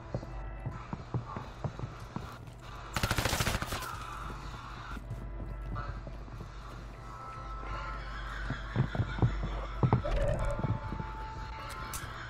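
Gunfire in Call of Duty Warzone on Rebirth Island comes as sharp bursts of shots, a dense volley near the start and scattered shots later, over a steady low game rumble.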